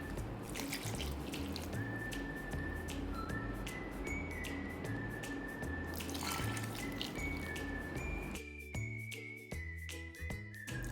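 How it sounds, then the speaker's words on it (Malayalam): Water runs steadily from a tap into a pan for a prawn and raw banana curry, a continuous rushing splash close by, accompanied by light metallic clinks and tinkles. "ഇതിലേക്ക് നമുക്ക് ആവശ്യത്തിനുള്ള വെള്ളം ഉടന്ന് ഒഴിച്ചു കൊടുക്കാം"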